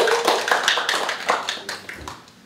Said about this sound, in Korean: 다시 박수를 좀